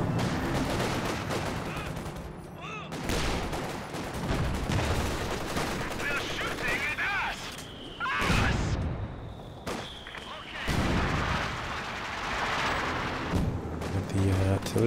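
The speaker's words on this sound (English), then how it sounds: "The artillery flares up from Nausicaä." Artillery fire in the Company of Heroes 2 real-time strategy game during a 2v2 match, including Katyusha rocket artillery: dense, repeated booms and crackling blasts that run nearly continuously, with a commentator's voice talking over the battle.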